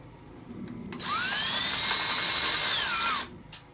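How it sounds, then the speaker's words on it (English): A power drill bores out stainless steel hardware that has a mismatched thread. A single steady whine rises as it spins up, holds for about two seconds and then winds down, close and loud with no talking. "So we're gonna drill those out."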